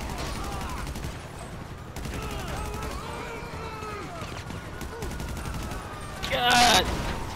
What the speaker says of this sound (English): they are shooting me right now